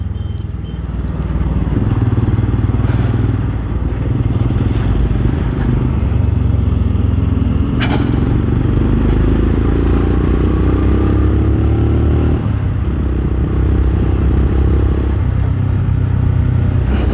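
A Royal Enfield Scram motorcycle rides through city traffic, its engine droning steadily and loud up close, rising and falling as it accelerates, with wind rush and surrounding road noise.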